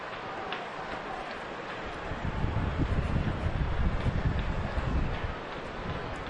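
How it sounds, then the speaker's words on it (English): Wind gusting through an upper-deck microphone at a Reds at Nationals baseball game, a broad steady roar of buffeting air that swells louder midway and holds, with no voices over it. "Wind gusting up here at the higher elevations."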